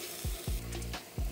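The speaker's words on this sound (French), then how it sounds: "je vais commencer à faire mousser mon beurre" Butter foaming and sizzling in a pan for a Quebec hot chicken dish, a steady low fry broken by three soft thumps of the pan or utensil, no talking.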